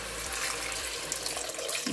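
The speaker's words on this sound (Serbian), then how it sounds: "I ovdje ćemo sada da dodamo odmah vodu," Water runs into a frying pan of vegetables seasoned with turmeric, making a continuous loud rushing stream that continues throughout.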